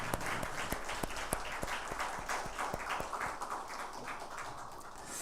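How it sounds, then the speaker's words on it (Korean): A church congregation claps in thanks for the choir after a Sunday worship anthem, a fairly soft and sparse patter of hands with distinct individual claps, thinning out toward the end. "오늘 아주 은혜로운 찬양해 주신 우리 성가대원들에게 다시 한번 감사의 박수 하겠습니다."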